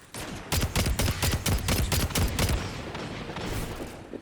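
An older Iron Banner shotgun fires in a video game as a rapid run of about a dozen heavy, booming blasts over two seconds, then gives way to a sustained noisy rumble of game action.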